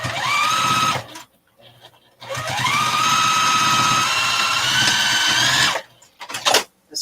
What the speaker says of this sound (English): So I'll sew this shut.